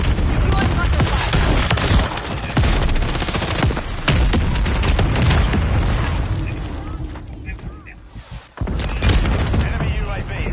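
Near mortar strike explosions and dense rapid gunfire in Modern Warfare 3, with loud machine-gun bursts and booms running almost continuously, a brief lull near the end, then heavy fire resuming.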